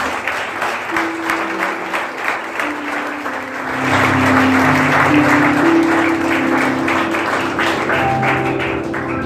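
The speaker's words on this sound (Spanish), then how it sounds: "Bríndale un fuerte aplauso a Jesús" A church congregation applauds during a worship service, steady clapping close by with sustained organ or keyboard tones rising underneath and swelling partway through.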